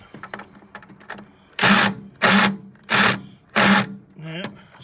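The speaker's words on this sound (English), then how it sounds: "Taking out a few screws here." A power drill backs out screws in four loud, evenly spaced whirring bursts, each about half a second long, preceded by quieter clicks and handling noise.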